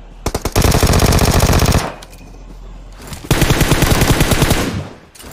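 Rapid automatic gunfire in PUBG on the Sanhok jungle map: two loud, sustained bursts of closely spaced shots, separated by a brief lull with a faint trailing echo.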